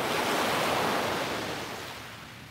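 Surf washing in at the edge of the water, a steady broad roar of breaking waves with some wind, loud at first and slowly easing off, no voices.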